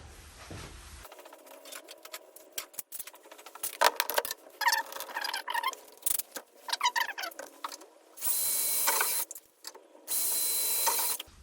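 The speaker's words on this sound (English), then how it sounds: "let's just go ahead and get these things drilled" Holes drilled in aluminum extrusion parts: scattered clicks and mechanical rattling, then two sustained loud whirring bursts of the drill cutting metal, close by with no talk.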